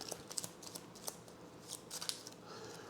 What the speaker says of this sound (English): Oh, we need to shuffle this deck too, actually.